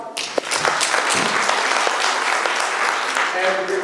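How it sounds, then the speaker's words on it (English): A conference audience gives a sustained round of applause after a panel presentation, dense clapping at an even level throughout, with faint voices mixed in. "please let's give them a clap."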